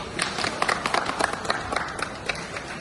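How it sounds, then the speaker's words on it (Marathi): Audience clapping at a pomegranate growers' felicitation event at a fruit yard in Nashik, a steady, moderately loud patter of many hands lasting the whole stretch with no talk. "टाळ्या वाजवा"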